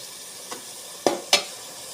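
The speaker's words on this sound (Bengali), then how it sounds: "আমার মশলাটা খুব সুন্দর কষানো হচ্ছে" Spice paste being fried in a pan for a boal fish curry, a soft sizzle under two or three sharp scraping stirs of a spatula against the pan, close up and with no speech.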